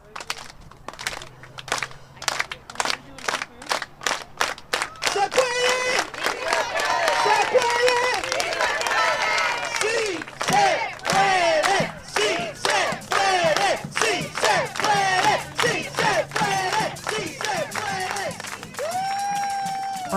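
A crowd of protesters outside the Sonoma County Administration Building in Santa Rosa chants in rhythmic bursts that swell into sustained shouting and cheering, loud and close, with clapping mixed in.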